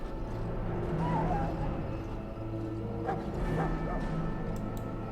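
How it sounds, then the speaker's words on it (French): A Mabari war dog in Dragon Age: Origins whimpers in short, faint whines beneath game narration and a steady ambient background. "Ce chien est un Mabari."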